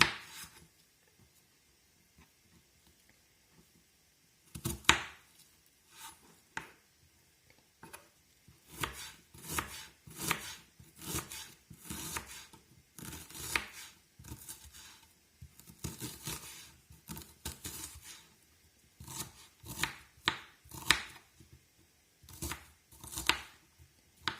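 A knife chops green onion on a board for a meat salad, giving a close, quiet series of rapid, irregular taps that start after a few seconds and continue in bursts.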